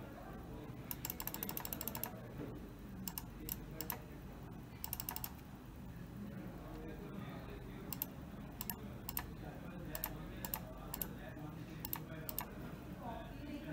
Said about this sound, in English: Now I am going to enter the password.